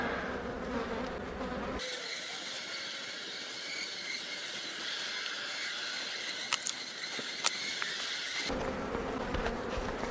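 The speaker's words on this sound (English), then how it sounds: "There's so many bees in here, there's no way they've swarmed yet." Honey bees swarming thickly around an open beehive during a frame check, giving a dense, continuous buzzing close by with a few sharp clicks over it, and no one talking.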